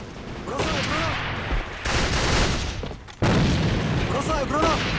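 Gunfire and booming blasts in the video game AVA, loud bursts layered over a shouted voice with an abrupt heavy surge near the end.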